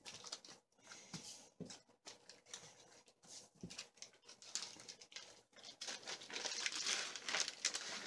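Plastic vacuum sealer bag crinkling as it is folded over, close and fairly quiet, in irregular rustling bursts that grow denser and louder toward the end.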